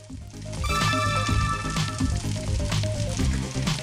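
Food sizzling in a frying pan in the Ready Steady Cook video game, a steady hiss running alongside bright, tuneful game music for the whole stretch.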